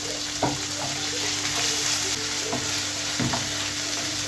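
Chopped tomato going into translucent onions frying in a pan, a steady sizzle with a few soft stirring scrapes and clinks, close and alone.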